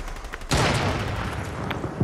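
A loud burst of sniper gunfire erupts in the video game Fortnite, with a sustained roar of shots and faint impacts trailing off, plus a brief sharp crack near the end.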